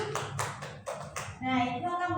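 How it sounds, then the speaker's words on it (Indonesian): Several sharp hand claps from a classroom during a geography lesson, fading after about a second as a voice continues over the room. "Bagus, tepuk tangan buat Nia."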